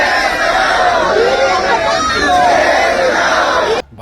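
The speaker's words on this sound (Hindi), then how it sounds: "जंतर मंतर के ऊपर हजारों लाखों की संख्या में भीड़ ने एकजुट होकर एक आवाज में ईवीएम को बैन करने के लेकर जो दहाड़ लगाई है" A huge protest crowd at Jantar Mantar roars together in one continuous, loud mass of voices, sustained for nearly four seconds before cutting off abruptly.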